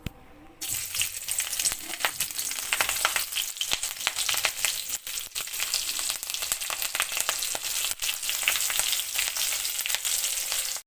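Mustard oil heating in a wok for frying, a loud steady crackling sizzle that begins abruptly after a brief quiet start and continues densely close by, with no talk.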